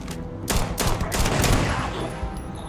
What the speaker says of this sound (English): Shotgun's not that effective.